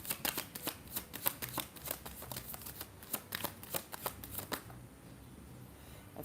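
Playing cards are shuffled and dealt close up, a quick run of sharp riffling snaps and flicks followed by a quieter pause.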